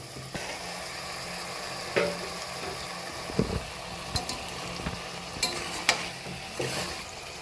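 Whole and cut eggs fry in biryani masala in a pan, giving a steady close sizzle with repeated scraping stirs and clinks of the spoon against the pan.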